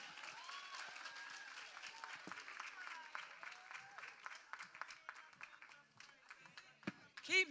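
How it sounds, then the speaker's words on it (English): A crowd applauds at a high school graduation ceremony. The clapping is faint and distant, and voices and bursts of cheering mix in before a louder swell at the end. "Keep the applause going."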